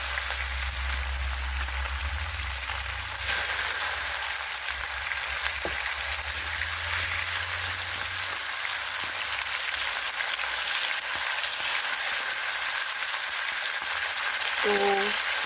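Chicken fries in a pot for a Jamaican home-style dinner, giving a continuous loud hiss and sizzle of hot oil with occasional faint clinks of stirring.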